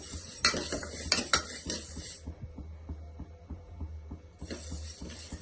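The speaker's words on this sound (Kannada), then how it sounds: "ಒಂಥರ ಚಿಟ್ಟಪಟ ಅಂತ ಒಂದು ಸೌಂಡ್ ಬರುತ್ತೆ ಆ ಸೌಂಡ್ ಬರೋವರೆಗೂ ನಾವು ಇದನ್ನು ಹುರ್ಕೊಳ್ಬೇಕಾಗುತ್ತೆ" Horse gram dry-roasts in a pan, giving a faint crackle with scattered sharp pops and short scraping stirs that stop briefly and then resume, with no voices.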